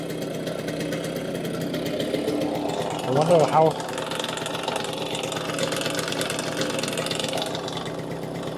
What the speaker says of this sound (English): the gears are working and it's idling.